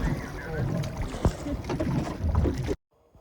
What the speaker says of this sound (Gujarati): હવે આપણે થોડીક બોટિંગ કરી લઈએ અને ફોટોગ્રાફી કરીએ.